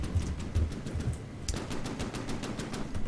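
Gunfire in the video game From the Depths rattles in rapid bursts: a few scattered shots, then a sharp, sustained machine-gun-like stream of evenly spaced cracks.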